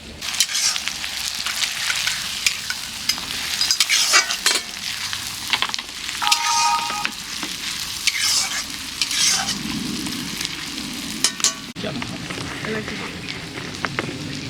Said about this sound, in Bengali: এটা আমাদের পেঁয়াজটা ভাজা হচ্ছে